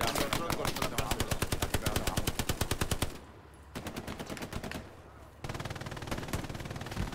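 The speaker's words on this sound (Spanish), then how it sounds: "me están disparando desde tu flanco" Rapid automatic gunfire from the World War II shooter Hell Let Loose on the Remagen map, loud bursts of rattling shots for three seconds, then a pause and further volleys of slightly quieter fire.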